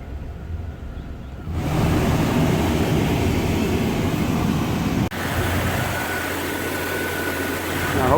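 A Jeep XJ engine cranks and catches after a quiet moment, then settles into a steady, loud idle that runs on under continuous broadband rush, with a brief click partway through.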